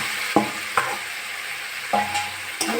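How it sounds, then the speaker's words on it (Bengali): Potatoes fry in oil with spice paste for a fish curry, a steady soft sizzle broken by a few distinct scraping stirs of a spoon in the pan, close up. "আমি ভালো করে কষে নেবো মশলার সঙ্গে।"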